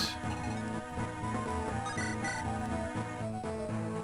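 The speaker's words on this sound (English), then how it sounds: "Sorry, that was my phone." A mobile phone ringtone rings during a Fire Emblem Randomized game session, a steady repeating electronic melody that plays continuously and fairly loudly over the whole stretch with no talk.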